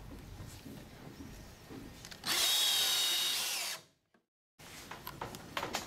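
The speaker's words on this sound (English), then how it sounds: "we screw the 3/4-inch thick plywood deck to the truss" Power drill driving screws through a 3/4-inch plywood deck into a wooden truss, a loud steady high whine lasting about a second and a half, then cutting off into silence before workshop noise resumes.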